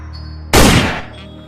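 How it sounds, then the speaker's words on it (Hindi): A single loud gunshot cracks sharply and then decays quickly, with a faint steady hum underneath. "बॉब ने तो रॉड को गोली मार दिया"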